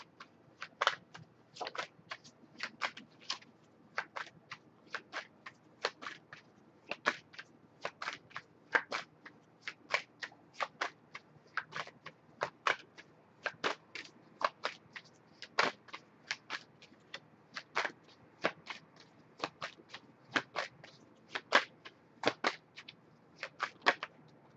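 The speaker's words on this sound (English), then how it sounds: "In case you wonder why she keeps shuffling." Tarot cards are shuffled over and over in a quiet room, with sharp, crisp riffling bursts that repeat in an irregular rhythm and short pauses between them.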